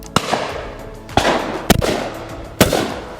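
Four sharp shotgun blasts from a Kizilkaya RT25 fire at irregular intervals outdoors, each a loud crack followed by a short rolling echo, with no speech over them.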